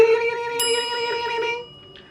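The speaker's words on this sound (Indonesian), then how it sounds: "Dan bel pun berbunyi lagi." School bell ringing as a story sound effect, a clear sustained metallic ring with bright overtones that holds steady and then fades out, heard alone.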